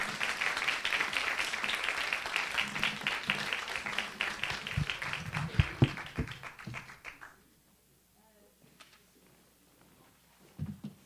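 Audience applause at an artists' presentation at Tripod Arts in Tacoma, a full round of clapping that tapers off after about seven seconds into quiet, then a few scattered claps.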